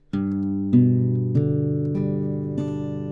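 Guitar notes plucked one at a time, five clean strikes that each ring on and overlap into a sustained chord.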